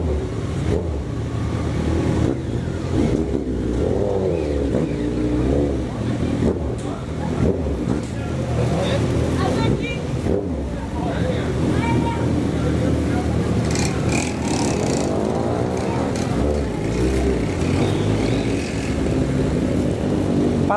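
A motorcycle riding through the streets of the Paraisópolis favela, engine droning steadily and close with shifting pitch as it moves, while a rider talks over it.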